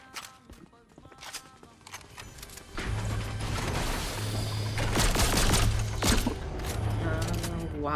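Shotgun fire in the Fortnite video game, with a few sharp blasts among busy gameplay sounds, music and footsteps, growing louder and denser in the second half.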